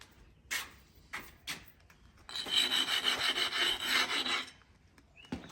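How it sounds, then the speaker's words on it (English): An old piece of cement is rubbed against a rough cement edge like sandpaper, a harsh close scraping: a few short strokes, then a sustained run of grinding rasps that stops abruptly. "I'm going to use this as a sandpaper for the cement, so hopefully we'll be able to smooth off any rough edges just using this."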